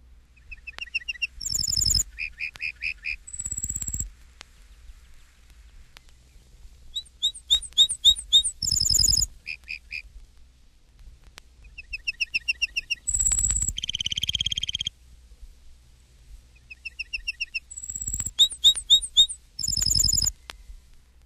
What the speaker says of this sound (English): Page 229, Lark Bunting.